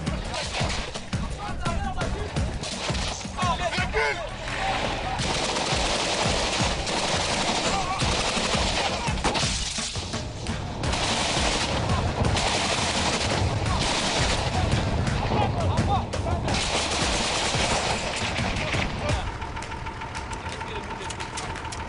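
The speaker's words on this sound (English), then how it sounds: "The vehicle's going to fire." A vehicle-mounted gun fires in sustained bursts during a military operation against Boko Haram, with the loud, dense gunfire running nearly unbroken under engine noise and voices.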